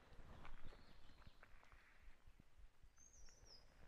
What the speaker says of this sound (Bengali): শুধু পাখির ডাক ছাড়া আর কোনো আওয়াজ নেই